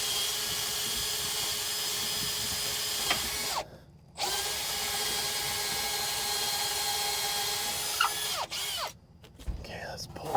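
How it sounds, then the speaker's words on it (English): A power drill whines steadily while boring new holes in a homemade truck cab jack, running in long sustained bursts with brief pauses between them, close by with no talk. "Let me drill some new holes here."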